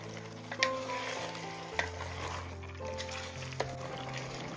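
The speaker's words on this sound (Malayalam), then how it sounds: "ഒരു 2 മിനിറ്റ് ഇതുപോലെ ഒന്ന് ഇളക്കി കൊടുക്കാം." Fried onions and chicken for chicken biryani are stirred in a hot pan, with a continuous sizzle and a few sharp spoon knocks against the pan over faint sustained background tones.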